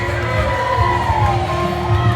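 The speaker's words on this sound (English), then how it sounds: "Let's give a round of applause for our groom today." Wedding guests cheer and whoop for the groom's entrance, a steady crowd roar with scattered shouts over loud DJ music at the reception.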